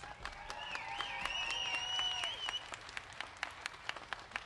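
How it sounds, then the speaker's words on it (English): Steady audience applause fills a rally for autism advocates, a continuous wash of clapping from a crowd with a few whistles and cheers rising above it. "Give her a round of applause"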